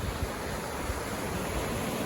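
Choppy surf at Ormond Beach, Florida, on a windy day: a continuous broad roar of waves mixed with heavy wind buffeting the microphone, steady and loud with no talk.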